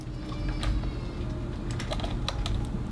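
Keyboard keys tapped in scattered short bursts over a steady low background hum, with no talk during the typing.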